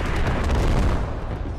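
An artillery strike landing in the video game Squad: a heavy, close boom that swells into a rumbling blast and then tails off over about a second and a half.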